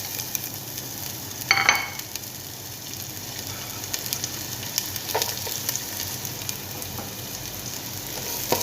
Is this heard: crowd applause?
no